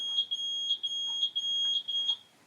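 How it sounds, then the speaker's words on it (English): A smoke alarm, set off by someone leaning on a cooker, beeps loudly in a repeating pattern of short, piercing high-pitched chirps that fade out at the end, with no talking. "That was the alarm."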